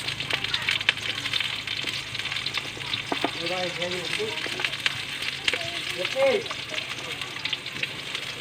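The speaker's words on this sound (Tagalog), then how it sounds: "at nag-isa na nga siya ng bawang. At isinunod na nga rin niya itong sibuyas." Garlic and onion sauté in hot oil in a pan for chicken tinola, giving a steady loud sizzle with occasional stirring scrapes and faint background voices.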